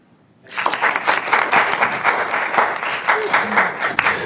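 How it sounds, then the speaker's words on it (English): Warm audience applause welcoming a professor at a lecture on acute ischemic stroke, a sustained, even round of clapping that starts abruptly after a quiet moment and holds steady to the end. "let's warm applause to welcome Professor Blakemore"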